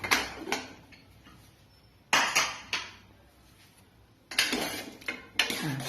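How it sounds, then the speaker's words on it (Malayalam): A pressure cooker lid is opened and the metal pot handled after cooking koorka and dal curry, with several sharp clanks and clinks spaced over a few seconds against a steady kitchen background. "നമുക്ക് കുക്കറൊന്ന് തുറന്ന് നോക്കാം."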